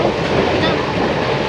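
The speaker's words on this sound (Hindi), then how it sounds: "आखिर हमारा ट्रेन भी आ रहा है" A passenger train rolls into CSMT station with a loud, steady rumble and rhythmic wheel clatter close by, filling the scene without pause.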